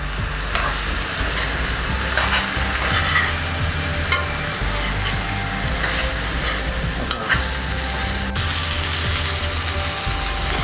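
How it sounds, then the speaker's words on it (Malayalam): Prawns are stirred while they fry in a pan for a prawn thoran, with a loud scraping, rattling spatula against the pan over a continuous sizzle and occasional sharp knocks. "ജസ്റ്റ് നമുക്കിതൊന്ന് ഇളക്കി കൊടുക്കാം."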